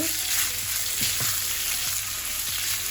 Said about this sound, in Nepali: अब यसलाई एकछिन चलाएर म एकछिन भुट्छु।